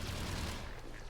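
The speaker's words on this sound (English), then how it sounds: "There's the artillery." Artillery fire in the video game Mass Effect 3, a dense rumbling barrage of booms that holds steady and loud through the whole moment, with no talk over it.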